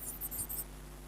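Pen or chalk strokes writing out the 8th term during a class 11 maths lesson on sequences and series, a few quick faint scratches over a low steady hum, with no talk.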